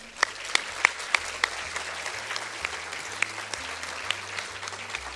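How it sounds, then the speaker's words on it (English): A pageant audience applauds in a moderate, steady round of clapping, with a few sharper individual claps standing out and a low background hum underneath. "So another round of applause for the hard work."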